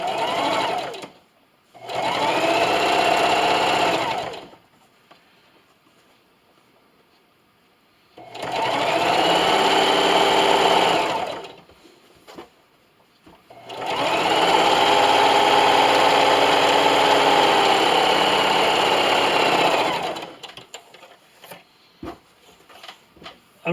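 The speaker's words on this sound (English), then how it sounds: "I'm at my sewing machine here, and I decided to show you just a few of these strips and how I sew them on" A sewing machine runs straight-stitching quilt strips for a Halloween quilt-as-you-go table runner, in three long steady bursts separated by pauses, loud and close with no talking.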